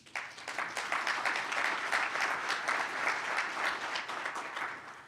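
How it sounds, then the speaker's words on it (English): A large civic audience breaks into sustained applause at a State of the City address, the dense clapping holding steady and full throughout with no voices over it. "And give yourselves a hand."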